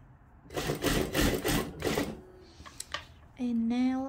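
A sewing machine makes a short, close, rattling stitching burst on a long frill skirt dress, and a voice speaks after it.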